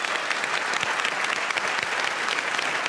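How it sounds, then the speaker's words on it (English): A studio audience at a televised Q&A panel show in Brisbane breaks into steady, dense applause, an even roar of many hands clapping with no pauses. "I think you should give yourselves a round of applause as well."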